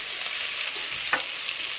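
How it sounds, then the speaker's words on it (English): Potatoes frying in a pan, a steady bright sizzle with one brief stir or clink partway through, close and without speech. "I'm gonna start with frying some potatoes"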